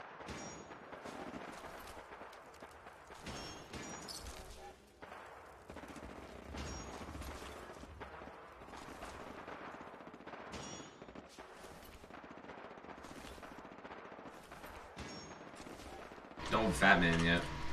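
Gunfire crackles through a battle in Fallout 4, with scattered bursts and volleys coming at irregular intervals over a low background and a louder cluster near the end.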